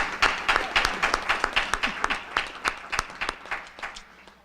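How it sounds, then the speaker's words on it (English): A room of business forum attendees at a Holiday Inn applauds the hotel staff, a thin group clapping with distinct, rhythmic individual claps that fade toward the end. "Let's give a round of applause to the staff here at the Holiday Inn."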